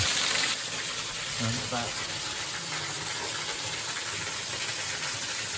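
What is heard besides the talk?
waterfall in Maspie Den, Falkland, Fife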